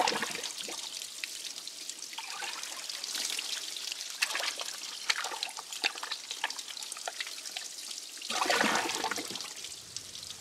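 Water runs and splashes steadily over dirty tractor parts being washed, a continuous trickling stream with a louder gush near the end, close by with no talk.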